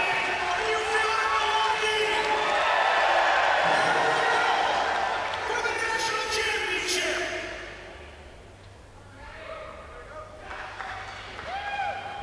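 Crowd cheers and claps at a U.S. men's hot saw timber-cutting competition, a loud, sustained roar that swells, then dips and thins out. An announcer's voice carries over it.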